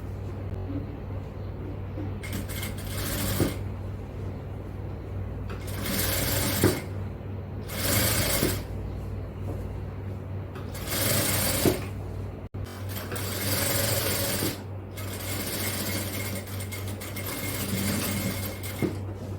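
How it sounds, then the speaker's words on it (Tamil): A sewing machine stitches a band onto shorts in several loud bursts of rapid whirring. Short quiet pauses separate the bursts, and a steady low hum runs underneath. "அடுத்து இதுல அரேஞ்ச் அளவுக்கு ஒரு பட்டி தையல் போட்டுக்கலாம்"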